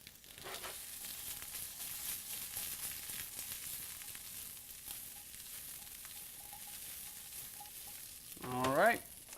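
Garlicky green beans fry and sizzle steadily in a pan, a constant hiss that runs throughout, broken by an occasional stir, with a brief clatter near the end.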